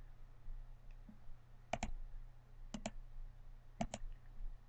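Three quick double clicks from a computer mouse, evenly spaced about a second apart, crisp and close against a faint background hum.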